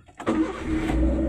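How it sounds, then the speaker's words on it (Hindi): A 2021 Eeco car engine starts up close: a short starter crank catches and settles straight into a steady idle. "मैं आपको एक काम करता हूँ गाड़ी स्टार्ट करके दिखा देता हूँ,"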